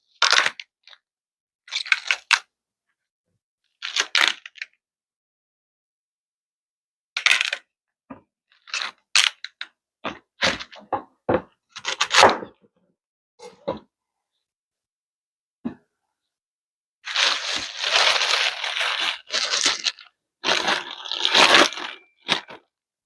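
Celery being trimmed and cut on a board during summer picnic food prep, giving crisp crunching snaps in scattered bursts with quiet gaps, then a denser run of crunchy cutting toward the end, close and fairly loud.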